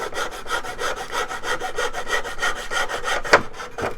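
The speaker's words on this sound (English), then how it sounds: "See, the hacksaw is just fine for this type of wood." A hacksaw cuts through wood with steady back-and-forth strokes, about four per second, rasping loud and close and without a pause. Near the end the rhythm breaks with a sharp knock.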